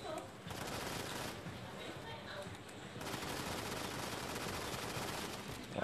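Turret gunfire in the mobile shooter Modern Combat 5, a dense stream of rapid automatic shots under game noise, with a short lull midway before firing resumes.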